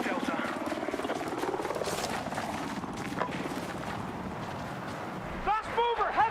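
A helicopter in a video game, a safe heli, whirs with a steady rotor chop amid battle noise, with scattered gunfire-like bursts and a voice calling out near the end.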